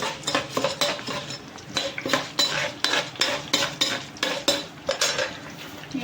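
Ingredients for drumstick leaf chutney frying in a pan, a steady run of sharp metal spatula scrapes and clinks against the pan over a light sizzle, close by with no talk.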